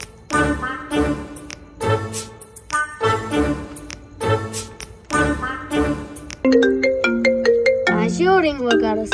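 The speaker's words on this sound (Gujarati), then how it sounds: "આ શું રિંગ વગાડો છે?" A phone ringtone plays a repeating melodic pattern in bursts, switching partway through to a quicker bright chiming tune, ringing clearly in a domestic comedy scene.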